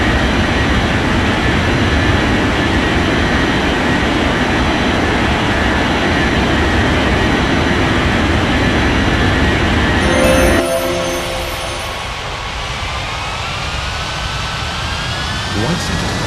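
An airliner takes off in the Unmatched Air Traffic Control game: a loud, steady jet roar fills the first ten seconds, then drops off sharply, leaving a quieter hum with faint rising tones.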